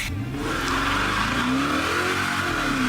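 A 5.7 Hemi V8 revs hard and accelerates, its engine note climbing steadily as it pulls through the gears, loud and close, with no voices over it.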